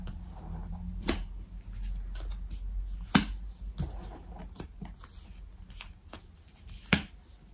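Tarot cards are shuffled for a nine-card spread, soft papery riffles and sharp snapping flicks repeating irregularly over several seconds, close and fairly quiet, with no talking.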